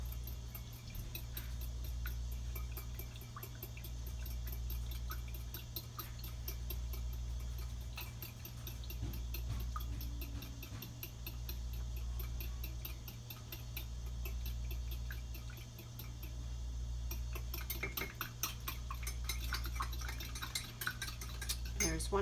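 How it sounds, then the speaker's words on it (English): A utensil stirs gelatin into hibiscus sauce in a pot, rhythmic scraping and clinking against the sides repeating steadily over a low hum, growing busier toward the end. "while I add it, I will be stirring it in so it doesn't clump up"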